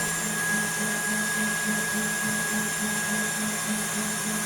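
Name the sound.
electric mixer whipping egg whites with sugar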